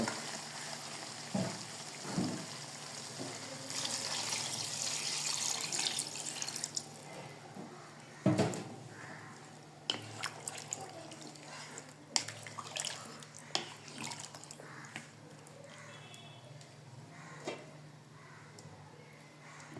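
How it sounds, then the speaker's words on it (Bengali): Water is poured into a pan of tough free-range chicken being braised, with a soft splashing hiss and scattered drips and clinks, fairly quiet against room noise. "এখন চিকেন কষানোর জন্য পানি দিব"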